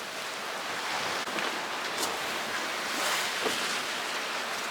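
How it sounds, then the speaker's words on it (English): Big sea waves off the shore toward Brighton, heard from a boat in rough water as a broad, steady rushing wash with wind and swells surging now and then. "We're surfing down some fairly big waves at the moment, running along the shore towards Brighton"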